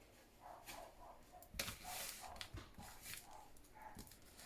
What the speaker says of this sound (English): Little doggy's not very happy up there.